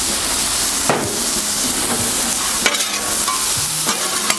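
Steak sizzling on a Blackstone flat-top griddle, a steady loud hiss of frying with a few sharp scraping clicks of a spatula against the metal, no voices.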